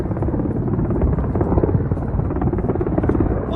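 Indian Air Force Mi-17 V5 helicopter at an outdoor ceremony in Leh, Ladakh, with a loud, steady rotor thrum and dense engine rumble that holds unbroken from start to finish.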